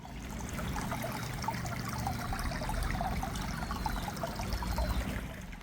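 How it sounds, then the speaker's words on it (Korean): A small stream flows through a large forest garden in central Seoul, a steady broadband trickle and babble of water that holds on continuously at close range with no voices. "놀랍게도 시냇물도 흐르는데요."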